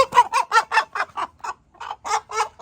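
A rooster held in the hand inside a chicken coop clucks repeatedly: about a dozen loud, close, rapid clucks in a steady rhythm, with one brief pause midway and no talking.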